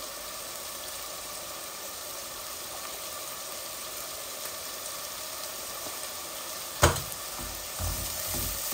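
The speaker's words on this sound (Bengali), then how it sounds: "জলদি জলদি চটজলদি মশলাটা ভাজা হয়ে যায়।" Spices with turmeric and salt fry in a pan on a home stove, giving a steady close sizzle throughout with a single sharp clank near the end.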